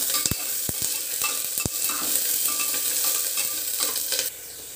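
Onions frying in a pan until brown, a dense steady sizzle with several sharp spatula knocks against the pan early on, the hiss dropping slightly at the very end.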